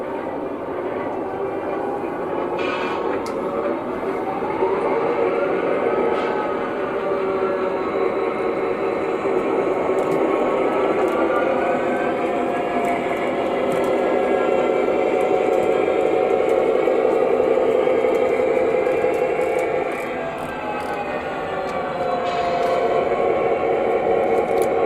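An O gauge model train locomotive runs on a home layout with a continuous whirring motor hum and rolling wheel noise, with a few sharp clicks near the start and end.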